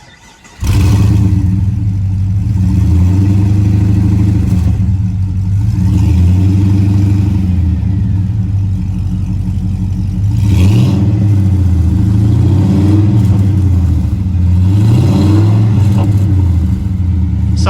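An HSV VT Clubsport engine with a DEA cat-back exhaust starts up and settles into a deep, loud idle close by, with several throaty revs rising and falling over it.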